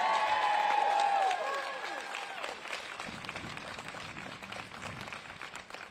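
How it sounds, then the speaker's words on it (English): Crowd applause for speakers at an outdoor protest at the South Carolina State House, a steady patter of clapping that follows a tonal whistle-like sound at the start and carries on at moderate level throughout. "Give a round of applause for our speakers."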